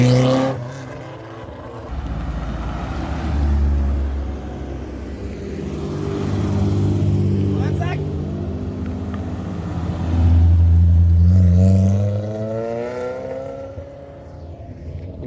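Rally car engines rev and roar in waves, rising and falling repeatedly, loud and close, with no talking.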